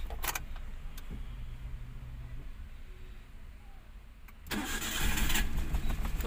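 A Maruti Alto 800 with an engine misfire problem is started: a short crank and click give way to the engine catching and running loudly and roughly nearby, with no talk.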